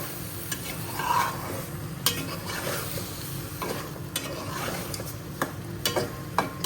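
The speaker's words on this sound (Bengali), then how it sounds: "ওই যে টমেটোগুলো দিয়ে আবারও কিছুক্ষণ আমি কষাই নেব।" Potatoes, eggplant and tomatoes fry in a pan over low heat with a steady sizzle, while a utensil stirs and scrapes against the metal, producing sharp, irregular clinks.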